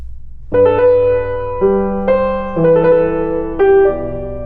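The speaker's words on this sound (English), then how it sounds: "now I'm going to play with the first note with the ornament, the mordent, and then the next note with the trill" Solo piano plays a short ornamented passage: a held note opens with a quick mordent flourish, then further notes follow with rapid trill ornaments, each phrase struck clearly and ringing out in a close, quiet room.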